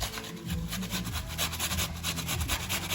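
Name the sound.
onion being grated on a regular cheese grater into a bowl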